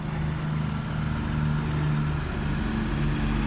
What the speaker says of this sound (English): here's another one of these big logging trucks